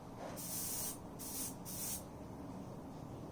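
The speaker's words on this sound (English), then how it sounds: "I can't freehand, especially with a cheap airbrush like this" Cheap airbrush spraying paint through a template onto a BC Rich Warlock guitar body, three short hissing bursts in succession, the last two brief, then quiet room noise.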